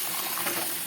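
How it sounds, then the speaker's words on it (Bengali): Boiled peas poured into a pan of sautéed mutton ghugni, a short wet, gushing splash with a soft clatter, close and fairly quiet. "এবার আমি সেদ্ধ করা মটরগুলো ঢেলে দেবো"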